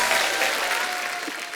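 Studio audience at a comedy talk show breaks into applause, a dense burst of clapping that fades out over a second or so, with a brief voice underneath.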